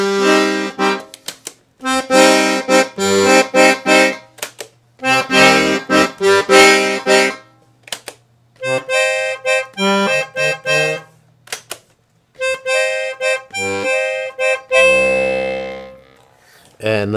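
Bass chords from a Crucianelli piano accordion with 120 basses and six registers, played in short bursts with pauses between, full and reedy, shifting in tone from one burst to the next, no voices.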